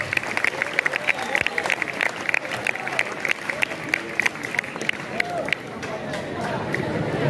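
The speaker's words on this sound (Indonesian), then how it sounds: "Tepuk tangan untuk Pak Bawa" An audience at a school book-launch ceremony in Batam claps steadily, a dense patter of many hands that is fairly close. A voice speaks over the applause and the crowd murmurs under it.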